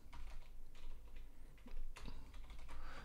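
Soft, close keystrokes on a computer keyboard as a ChatGPT prompt is typed, a quiet irregular patter of clicks over faint room hum.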